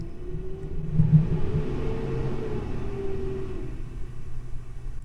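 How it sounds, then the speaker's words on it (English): A heavy garbage truck engine rumbles steadily outside, its deep drone swelling slightly as it revs, muffled as if heard through a window. "Trash truck is outside my window. It's making a bunch of noise."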